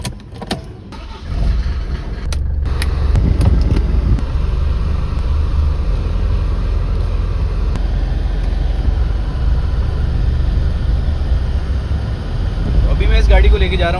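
A diesel car with an oil problem, heard from inside while driving: a loud, steady low engine drone holding for many seconds after a few door or handling clicks, with speech over it.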